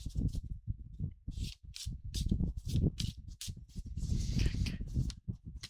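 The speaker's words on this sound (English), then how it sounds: "So let me just give these a shuffle." A deck of oracle cards being shuffled by hand, close and fairly loud, in repeated bursts of crisp riffling and sliding that come in uneven rhythm, with no talking over them.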